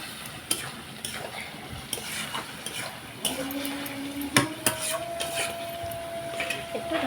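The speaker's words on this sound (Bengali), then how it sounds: "মশলা দিয়ে ভালো করে কষিয়ে নেব" Spices sautéing in a pan for an ash gourd curry, a continuous sizzle broken by scraping stirs and a few sharp knocks of the spoon against the pan, fairly close.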